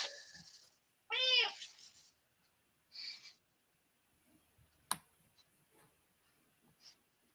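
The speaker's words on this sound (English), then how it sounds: "So I just got shouted at by my cat because I just kicked her" A house cat gives a loud, drawn-out yowling meow after being accidentally kicked, then a shorter cry follows, with a few faint knocks and rustles in a quiet room.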